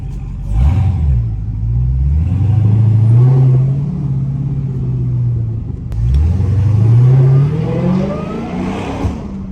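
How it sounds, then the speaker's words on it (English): A Dodge Hellcat's engine revs hard twice, each burst rising then holding at a loud, deep roar before falling back, heard up close with the windows down and echoing off nearby walls; no one talks. "Let the windows down so y'all boy can, you feel me, hear the car a little bit better."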